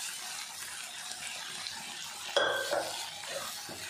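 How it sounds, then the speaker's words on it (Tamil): Pressure-cooked bottle gourd tipped into a pan for kootu and stirred, a soft steady sizzle and hiss with a sudden clatter and scraping of a utensil against the pan partway through. "நம்ம குக்கரில் வேக வச்சு வச்சுருந்த சுரக்காயை ஃபுல்லாக அப்படியே சேர்த்துக்கலாம்."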